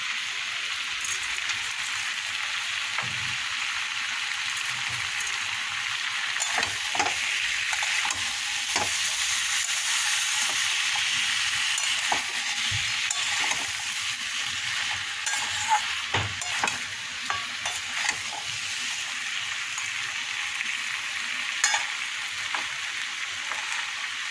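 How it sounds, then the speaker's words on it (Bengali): Gobindobhog rice fried in a pan with fish head, potatoes, tomato and spices for muri ghonto, a loud continuous sizzle under repeated scraping and clacking of a stirring spoon, with no voices. "একটু নাড়াচাড়া করবো।"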